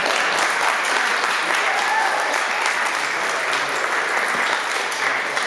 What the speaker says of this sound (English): It's the first round of applause I've ever had for that